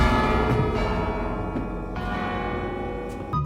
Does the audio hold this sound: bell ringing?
yes